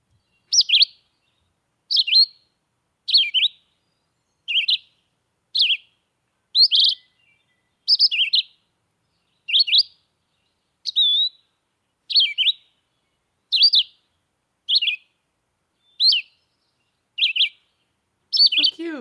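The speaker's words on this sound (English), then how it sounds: "It was singing this beautiful song, and Sam's going to play that song for us right now." Recorded song of a red-eyed vireo plays back as a long series of short, bright chirped phrases, each repeated roughly every second with brief pauses between, clear and alone over a silent background.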